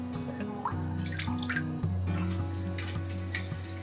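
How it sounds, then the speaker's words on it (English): Water runs and trickles steadily as it is drained out of a home fish tank being set up with driftwood, a close, continuous splashing flow with no voices over it. "Next, I'm taking out the water to make it easy for planting."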